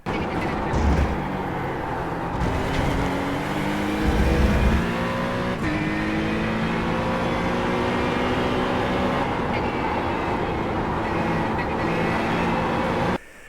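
Acura GT3 race car lapping Road America in the iRacing simulator, its engine note rising through the gears in repeated climbing sweeps, loud and continuous from the driver's seat with brief shift breaks.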